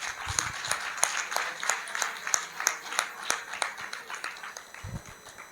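A small audience at a Swami ji gathering claps in a loose, uneven rhythm of distinct sharp slaps, moderately near, with a voice briefly heard at the start and end.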